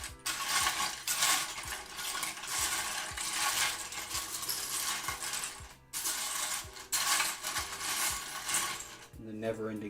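LEGO pieces being rummaged through by hand, a dense, continuous clatter of small plastic parts rattling and clicking against each other close by, with brief pauses.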